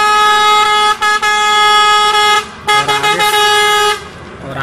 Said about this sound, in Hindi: और आगे से आ रही है एक बस जो कि हॉर्न काफी तेज मार रही है यार